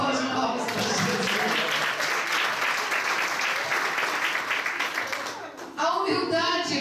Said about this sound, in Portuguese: É só de palmas para Jesus.